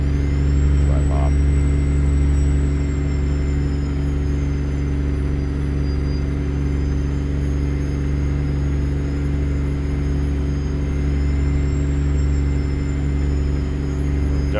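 A Freightliner Argosy truck with a 14-litre Detroit engine pulls away in American Truck Simulator, giving a steady low engine drone and rumble that runs on throughout.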